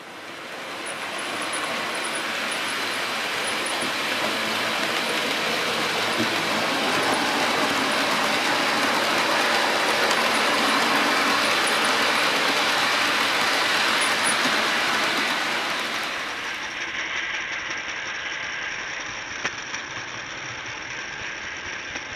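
A Class 37 diesel locomotive in 1980s Scottish-region livery, modelled at Dean Park Station, runs with a loud, steady engine roar that swells, holds, then drops sharply to a quieter hum near the end.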